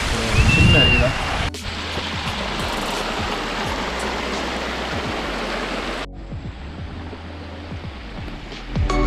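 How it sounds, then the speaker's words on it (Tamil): Water pours over a small waterfall at the Agniyar bridge near Eachanviduthy, Thanjavur, producing a constant broadband rushing roar, close and steady, with a few knocks and a brief whistle-like tone early on. "அருவி மாதிரி தண்ணி ஊற்றிட்டு இருக்க சவுண்டு கேட்குதா?"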